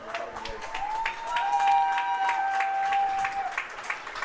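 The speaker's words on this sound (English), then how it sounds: "the HarBer crowd gives a well-earned round of applause to Corneliuson" Spectators at a high school state tournament baseball game clap in scattered, steady applause from a distance, with a sustained whistle-like tone carrying over the crowd.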